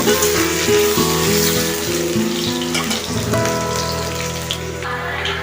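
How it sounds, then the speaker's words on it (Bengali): Potatoes frying in oil in a pan: a steady, close crackling sizzle that runs the whole time, with tonal background music underneath. "তারপরে আলুগুলোকে ভেজে নেব"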